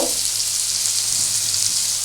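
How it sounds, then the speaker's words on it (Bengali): BBQ chicken pieces, just flipped, fry in a pan with a steady, close, continuous sizzle and crackle that holds evenly throughout with no talking. "আমি একটু উল্টে দিলাম, এই পিঠটা একটু ভাজা হচ্ছে।"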